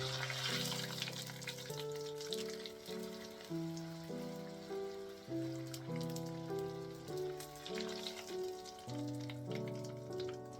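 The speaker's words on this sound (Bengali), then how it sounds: "চলুন এবার বেশ কয়েকটা ভাটুরে ভেজে নিই" Bhature deep-frying in hot oil for Amritsari chole bhature, giving a soft continuous hiss and sizzle beneath steady background music.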